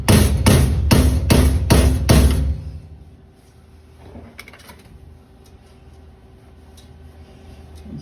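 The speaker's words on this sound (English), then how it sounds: "you could also hit it slightly with the edge of the hammer" Hammer blows on a copper pipe tie-in for a beverage filler: six loud, evenly spaced strikes in the first two and a half seconds, then quiet room tone with a faint clink.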